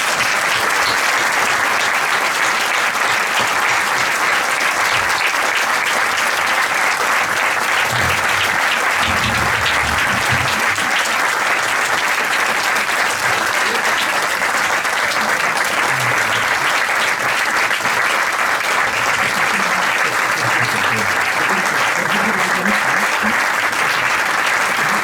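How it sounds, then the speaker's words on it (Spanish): Sustained, loud applause from a hall audience honoring an award recipient at a cultural-center ceremony, a dense unbroken wash of clapping that lasts the full twenty-five seconds with faint murmurs underneath. "Enhorabuena, Pedro, y este aplauso es para ti."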